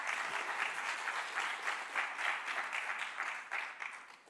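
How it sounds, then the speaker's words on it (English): Audience applause at a blockchain conference, a full, even round of clapping with gentle swells, heard clearly and on its own for a few seconds. "Let's give him a big round of applause."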